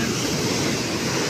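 Sea waves wash and rumble in a steady, loud surge with wind blowing over the microphone, heard alone for just over a second.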